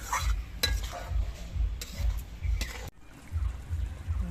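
Prawns cooking in yogurt gravy over low heat, with soft bubbling and a spoon stirring and scraping the pan in repeated strokes, close up with a brief pause before the stirring resumes.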